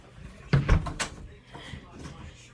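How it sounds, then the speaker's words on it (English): A door is shut indoors in a Halo-themed skit, giving a solid thump followed by softer knocks and rattles. Voices and movement noise can be heard around it. "Let me close the door."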